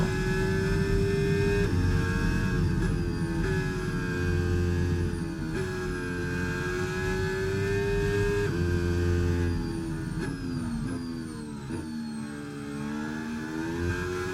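Race car engine in the F1 25 game driving a lap at Silverstone, a loud continuous high-revving engine note rising and falling through gear shifts, with occasional downshift blips toward the end.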